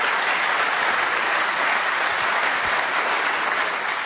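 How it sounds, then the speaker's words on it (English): A snooker crowd at the Crucible Theatre during a World Championship semi-final gives sustained, dense applause, loud and even from start to finish, with no voices over it. "The crowd applaud."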